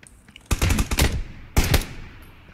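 Gunfire from a battle in the video game PUBG, two loud close bursts of rapid automatic shots about a second apart, each ringing out briefly with no voices.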